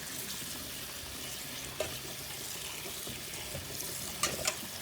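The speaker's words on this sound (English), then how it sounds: "So now just dip them into a colander, give them a rinse with cold water." Cold tap water runs steadily into a colander of freshly cured raw olives in a sink, a soft continuous trickle with a few clinks and splashes near the end, no voices.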